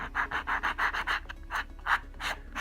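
A sanding block rubs back and forth over the edge of a helmet earpiece in quick, even strokes, about a dozen raspy passes close up with brief gaps between them.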